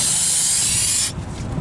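An aerosol spray can hisses loudly and steadily over the rear brake parts of a 2011 Honda CR-V, then cuts off abruptly, leaving a low background murmur.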